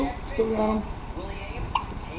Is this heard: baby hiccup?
yes